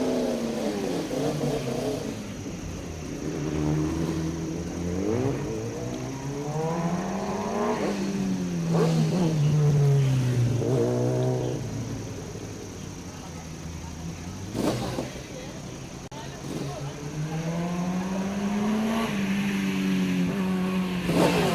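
A Kawasaki ZX-10R racing motorcycle climbs a hill-climb course, its engine rising and falling in repeated rev sweeps through the gears, loud and close the whole time, with a commentator talking over it.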